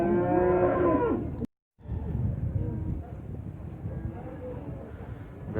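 Cattle moo at a livestock market near Almaty: a loud, drawn-out lowing call fills the first second and a half, then a short gap gives way to dense crowd and market bustle.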